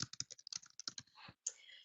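Rapid clicking keystrokes on a computer keyboard, close and quiet, in an uneven burst of taps with a brief pause before a few final presses.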